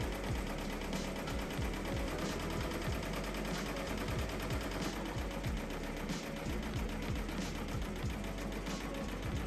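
A Ricoma MT1502 embroidery machine stitches a beanie with a steady, rapid mechanical clatter of needle strokes, loud and continuous, with periodic brighter ticks throughout.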